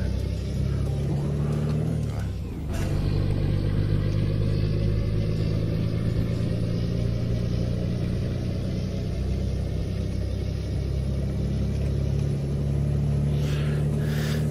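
A truck in the game Euro Truck Simulator 2 drives along with a steady mid-pitched engine drone and low rumble, holding constant and close, with a brief clattering burst early on.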